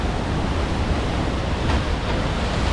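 The Edessa waterfalls in Greece roar with rushing, falling water about 20 metres away, a dense, loud, unbroken torrent filling the whole scene with no other sound standing out.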